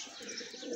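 Pigeons cooing and chirping close by in a loft, a male chasing a female, steady soft calls running throughout.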